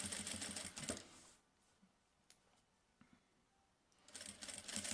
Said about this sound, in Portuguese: Seguro um pedaço, costuro um pedaço.